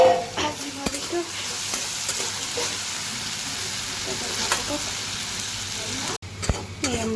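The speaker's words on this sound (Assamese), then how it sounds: "ভাজি ভাজিছোঁ" Jackfruit seeds fry in a pan with a continuous sizzle, and occasional scraping stirs cut through the steady crackle, heard close up.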